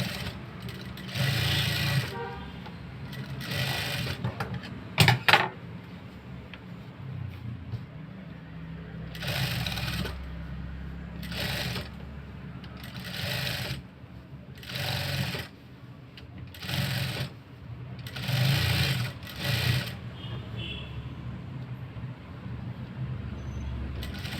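A sewing machine stitches a peeping blouse, running in repeated bursts of rapid mechanical whirring separated by short pauses, fairly close with a low room hum beneath.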